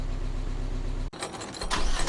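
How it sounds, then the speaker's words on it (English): A Mazda MX-5 with a misfire idles roughly, its low, uneven engine drone running steadily before cutting off abruptly, then giving way to brief, louder clattering and mechanical rustle nearby. "you can really hear how bad it's running there now that it's idled down a bit"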